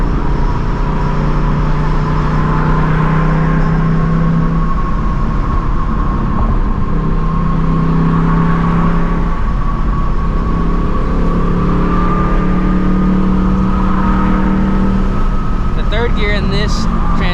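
2024 Ford Mustang GT pulling hard through the gears from inside the cabin, a steady loud engine drone with rising tones and gear changes, and a voice briefly at the end.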